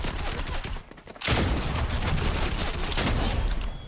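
Gunfire from a weapon in the Fortnite video game, a dense burst of rapid shots that pauses briefly, then resumes in a loud, sustained volley.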